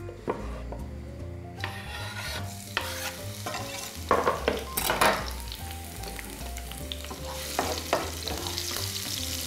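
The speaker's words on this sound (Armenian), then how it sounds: "մանր կտրատենք և տապակենք" Finely chopped green hot pepper fries in heated vegetable oil with a steady sizzle, while a utensil scrapes and stirs it in the pan throughout, with no voices.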